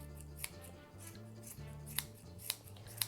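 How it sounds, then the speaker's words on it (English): Scissors snip a round yarn pom pom against a trim guide in a few crisp, close cuts spaced about half a second apart, quiet and with no talk. "center to center with your pom pom trim guide and trim all the way around."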